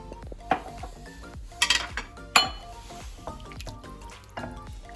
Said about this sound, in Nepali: पानी चाहिँ मैले तातो पानी राख्दैछु